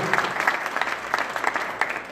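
Audience at a state trade-union plenary session breaking into applause, a brief continuous burst of many hands clapping at moderate distance with no talk over it.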